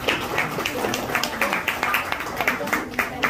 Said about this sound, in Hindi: तालियां बजाई जा सकती हैं